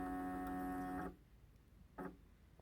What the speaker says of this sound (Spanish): En estos momentos el equipo está aspirando la muestra